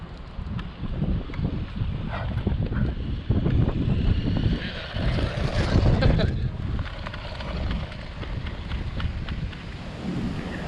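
Enoze Subzero 1/16 dual-motor RC truck run at its highest speed setting outdoors on grass, a continuous rough rumble of motors and tires churning ground, surging louder midway with a brief whine, under light wind.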